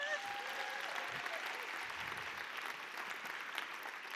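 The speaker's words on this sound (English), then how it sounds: "Round of applause for these guys" Crowd clapping at a live poetry slam final at the Roundhouse, steady distant applause with a few cheers, fairly faint and even throughout.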